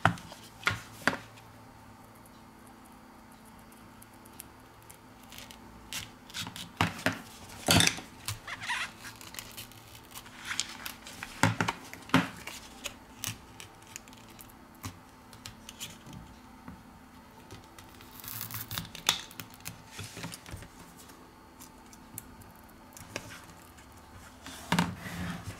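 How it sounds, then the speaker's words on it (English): A plastic card slicing through the back-cover adhesive of a Huawei Mate 20 phone during a teardown, heard as faint scraping and intermittent clicks and taps, close up and without talk. "We use a plastic card to cut the adhesive."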